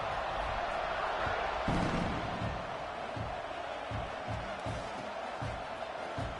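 Stadium crowd noise in a college football video game of Michigan at Oklahoma, a steady, moderately loud roar underneath a play-by-play commentator's voice.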